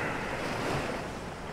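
Ocean waves breaking on the shore make a steady, wind-blown roar of surf that fills the whole stretch without a break.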